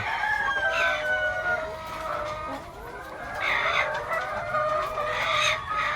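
Laying hens cluck and call continuously nearby, with drawn-out tonal calls rising and overlapping against a faint background hum.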